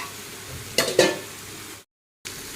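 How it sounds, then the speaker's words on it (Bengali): Spice paste frying in a pan for banana-stem ghonto, a soft sizzle with two brief bursts of stirring clatter, then a moment of silence before the frying resumes. "মশলাটা ভালো করে ভেজে নিয়েছি"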